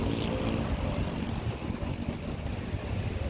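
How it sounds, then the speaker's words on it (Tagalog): Wind and sea by the shore at night: strong gusts buffeting the microphone over a steady, rumbling wash of waves, loud and continuous with no voices. "Ganda ng dagat dito guys."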